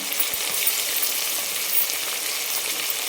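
Ginger-garlic paste with turmeric, mint and coriander sizzles steadily in a hot pan as it is stirred, a dense crackling frying hiss with a few soft scrape taps, continuous and close.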